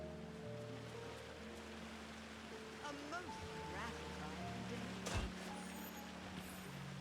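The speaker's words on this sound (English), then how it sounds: "So, waterfall." A waterfall in the video game Disney Dreamlight Valley rushes steadily as a continuous broadband wash, with game music and soft chime-like tones playing over it.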